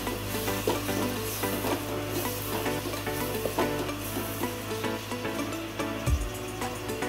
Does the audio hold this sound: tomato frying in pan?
yes